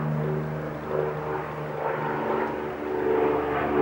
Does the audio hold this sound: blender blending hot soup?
no